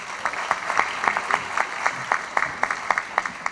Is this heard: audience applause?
yes